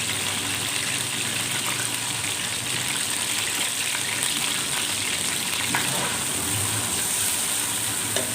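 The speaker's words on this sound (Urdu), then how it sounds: "آئل گرم ہو گیا، اب اس ہم ایک درمیانہ سائز کا پیاز ڈالیں گے۔" A medium-sized onion fries in hot oil, giving a loud, steady, continuous sizzle that runs unbroken throughout with no talking.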